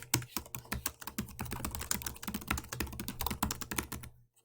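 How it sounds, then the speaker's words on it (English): Rapid, uneven typing on a computer keyboard, close and steady for several seconds with dense clusters of keystrokes, then stopping abruptly near the end. "You will type in your title of your article"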